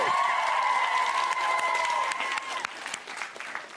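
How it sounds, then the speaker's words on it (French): A studio audience applauds on a Quebec TV game show, a bright crowd of clapping over a ringing musical sting that fades away after a few seconds. "on les applaudit"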